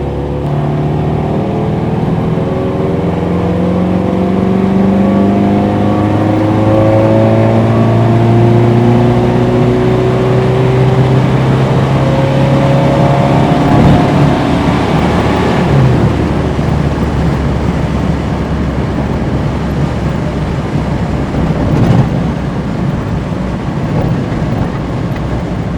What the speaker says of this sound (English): fourth gear pull from lower RPMs.